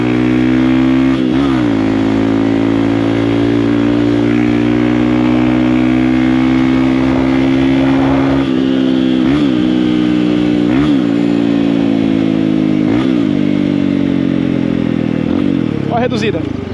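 Honda XR motorcycle engine droning steadily at close range, with a series of clear downshifts every couple of seconds, each marked by a brief blip and a shift in engine pitch as the bike slows.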